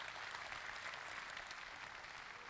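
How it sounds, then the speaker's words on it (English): An audience claps for volunteers walking up to the stage at a Christmas event, a faint, steady wash of applause lasting a few seconds without voices on top. "give our volunteers a round of applause as they make their way up to the stage"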